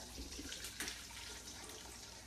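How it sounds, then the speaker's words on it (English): Turkey bone broth, simmered for 24 hours, poured through a strainer into a bowl, giving a steady, close liquid splashing and trickling throughout, with no talking. "I'm going to go ahead and pour it into the bowl. So you're going to want to have a strainer."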